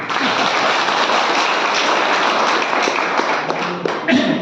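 An audience at a health talk session applauds steadily, dense clapping filling the whole stretch at an even level.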